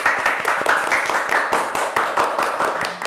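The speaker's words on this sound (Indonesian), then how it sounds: "Beri tepuk tangan kepada para jawara CCI SMP Al Mustafa." A school audience applauds the Islamic quiz (cerdas cermat) champions of SMP Al Mustafa, with dense, fairly loud clapping that runs on without a break and has sharp individual claps standing out.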